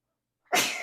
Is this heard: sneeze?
yes